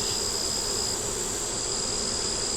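Honeybees on a hive frame make a dense continuous buzz, close and fairly loud, with a steady high whine running over it and no voices.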